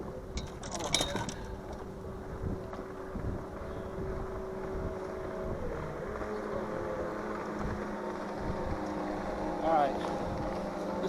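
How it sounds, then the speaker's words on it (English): Jet skis pass on the Susquehanna River as a steady engine drone on open water, with wind buffeting the microphone and a faint clatter early on. "Let me wait these jet skis go by."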